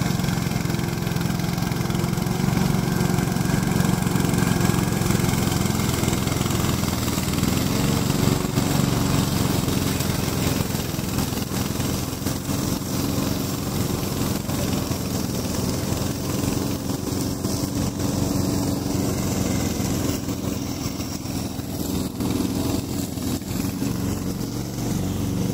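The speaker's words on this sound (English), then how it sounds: "Today I'm going to introduce our remote control lawn mower." A remote control lawn mower engine runs steadily and loudly throughout, a continuous droning idle with no talking.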